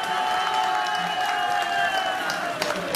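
Audience at a prize ceremony closing the Khelo Itanagar sports tournament applauds steadily, a dense and continuous wash of clapping and crowd noise with faint voices mixed in.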